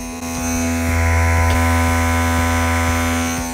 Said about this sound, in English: This is a pore vacuum